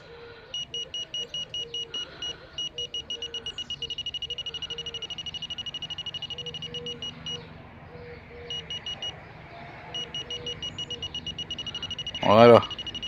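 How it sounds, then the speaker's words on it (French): A Fortuna pinpointer metal detector gives repeated short electronic beeps in steady rapid pulses, pausing and resuming, with a louder sharp tone near the end; someone speaks quietly underneath. "il fait un bip, et quand il fait un bip, il est prêt."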